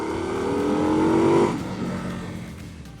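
An Indian Scout motorcycle engine hums as it rides at lower speed, rising briefly in pitch and loudness and then easing off as the throttle drops, with steady road rumble beneath.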